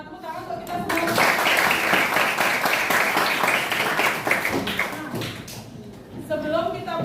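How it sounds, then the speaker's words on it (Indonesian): A classroom of students applauds together in a long burst of dense, steady clapping that fades out near the end, with a voice speaking over the tail. "Ya, tepuk tangan untuk kita semua."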